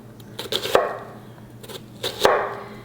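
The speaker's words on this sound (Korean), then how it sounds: "이렇게 썰어서 돌려가지고 이렇게 썰어주면 잘게 썰기가 아주 쉬워요" A knife chops onion on a cutting board with two clusters of quick crisp cuts, each ending in a firm thud against the board, close and clear.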